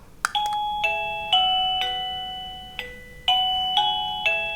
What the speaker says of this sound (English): I also got a doorbell.